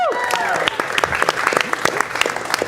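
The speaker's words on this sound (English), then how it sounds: "give it up for your directors" Theater audience at a live show clapping for the directors, the applause thinning into scattered individual claps, with voices heard at the start.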